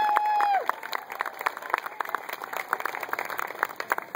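Scattered, uneven handclaps from a small crowd patter on, thinning and picking up again, after a brief whistling tone at the start.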